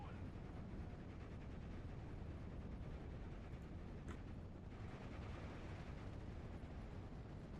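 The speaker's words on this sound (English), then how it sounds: "Looks like just a regular bombing" Bombing explosions in the Steel Division WWII strategy game, a continuous heavy low rumble of blasts rolling on throughout with no clear gaps, dense and distant-sounding.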